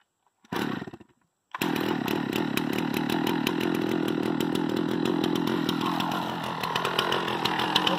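A chainsaw on an Alaskan mill starts with a short burst, pauses, then runs loud and steady, milling lumber continuously with a slight dip in pitch near the end.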